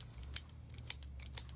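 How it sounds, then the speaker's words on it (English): A paper puncher snaps through thinly stretched dough, five or six crisp, quick clicks in an uneven rhythm over a low hum. "I just stretch the dough and very thin. And I use just a paper puncher"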